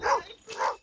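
Two barks from a dog out with a dog walker, close and loud, evenly spaced with a short gap between them and no voices.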